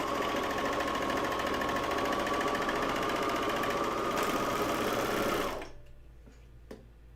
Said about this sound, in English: I'm just gonna sew a little bit.